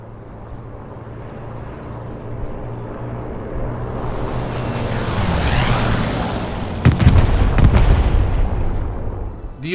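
A US P-47 Thunderbolt in a WWII video game swoops in on a flat approach to drop bombs: a rising engine roar grows louder, then heavy explosions hit near the end.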